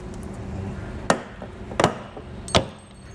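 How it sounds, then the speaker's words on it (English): A T25 metal clip clinks as a vehicle trim panel is pried off during a hidden hitch receiver installation: three sharp, separate clicks about a second apart, close and crisp over quiet background. "you hear a little clinging, that's going to be from our T25 clip"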